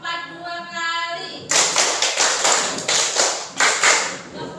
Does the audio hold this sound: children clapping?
yes